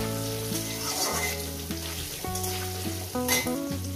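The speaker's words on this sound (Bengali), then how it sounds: "আলুটাকে দিয়ে দিলাম, আলুটাকে সুন্দর করে আমি একটু ভেজে নেব।" Potatoes fry in oil for a fish-head potato chorchori, a soft continuous sizzle with a few stirring scrapes, heard beneath steady background music.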